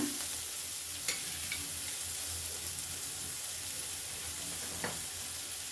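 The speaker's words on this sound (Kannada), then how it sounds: "ಚೆನ್ನಾಗಿ ಫ್ರೈ ಮಾಡ್ಕೊಳ್ಳೋಣ." Potato and brinjal frying in a pan for a sabzi, a steady low sizzle with a few faint clinks of stirring, with no voices over it.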